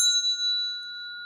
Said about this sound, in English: Remember to hit the notification bell.